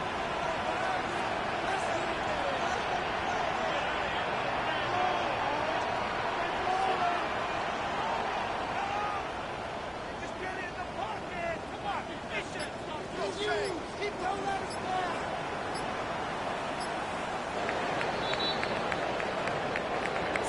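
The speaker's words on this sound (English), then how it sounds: "So several thousand 12th men and women cheering as the Seahawks win at home." Several thousand home fans roar and cheer in a stadium as the Seahawks win, a broad sustained crowd wash with a commentator talking over it throughout.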